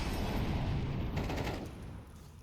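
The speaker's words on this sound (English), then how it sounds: "there's a lot of gunfire, but really it's all bark and no bite at the moment" Rapid bursts of gunfire from a Counter-Strike esports match on the Anubis map, a dense continuous rattle of shots that fades slightly toward the end.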